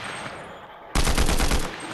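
Gunfire in the video game Fortnite, a sudden loud burst of rapid shots starting partway through and continuing steadily to the end, preceded by a muffled stretch of game sound.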